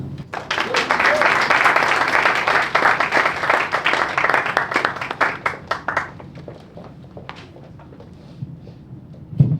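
A show audience welcomes performer April with loud, sustained applause, dense clapping that gradually thins out into scattered claps before a quiet pause.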